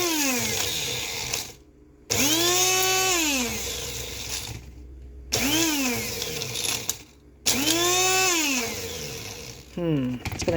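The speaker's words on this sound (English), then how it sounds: "I'm going to get out my blender" Small blender motor revving up and down in repeated bursts with short pauses between, whining as it grinds dry onion skins, close and loud.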